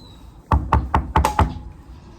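Five sharp knocks on a door at home, evenly spaced in a quick burst, loud and close with no voices over them.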